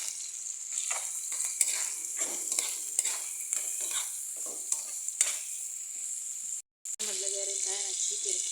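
Chicken goes into a pot of mung beans being cooked, with continuous sizzling and bubbling plus stirring scrapes and clatter up close, and a voice speaking over it.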